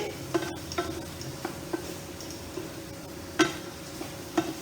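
Spices being sautéed in oil for a potato and pointed gourd curry make a faint, low sizzle broken by a few soft scrapes and clicks of a stirring spoon against the pan.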